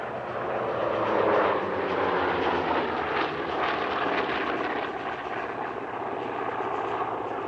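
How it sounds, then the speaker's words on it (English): A vintage aircraft, leading a formation with a Corsair behind it, drones past at the Air Legend 2024 airshow. The engine roar is broad and steady, swelling slightly and then easing as it passes at a moderate distance, with no talk. "The lead aircraft is from the Amical Jean-Baptiste Salis"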